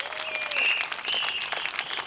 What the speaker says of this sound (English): please, go ahead and cheer for him